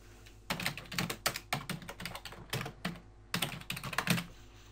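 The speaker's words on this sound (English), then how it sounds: "and start typing in here" Quick, irregular keystrokes on a computer keyboard, clattering in short bursts with brief pauses.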